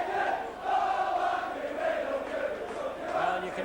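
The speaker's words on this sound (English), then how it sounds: "you can hear from the crowd, very popular figure, Saints captain" A rugby league crowd at a St Helens versus Bradford playoff match roars and cheers steadily as the Saints captain is substituted, a broad sustained swell of many voices rising and falling over the whole stretch.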